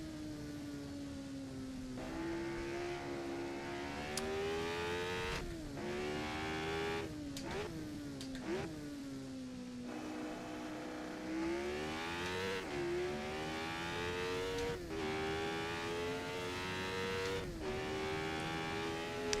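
A Lotus 25 Formula 1 car on a lap at Goodwood, its engine screaming continuously up close with repeated rising pitch sweeps through the gears and sharp throttle blips on downshifts.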